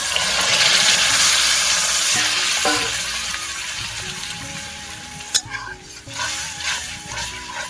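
Taro and Malabar spinach ghonto tipped into spices fried in oil, a loud steady sizzle that gradually settles, with a sharp clatter of a spoon against the pan and some stirring scrapes toward the end.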